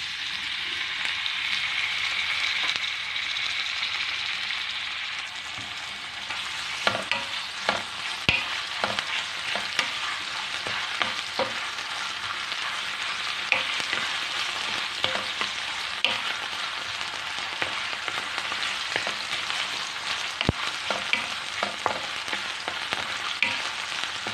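Meat sizzles steadily in a hot pan for pancit guisado while a utensil stirs it, with frequent scraping clicks over the constant frying hiss.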